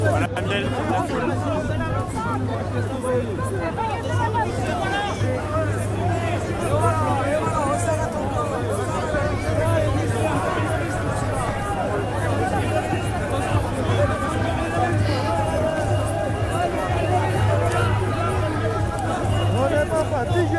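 A crowd murmurs continuously, dense overlapping voices and chatter blending into a steady babble over a low hum, with nearer voices occasionally standing out.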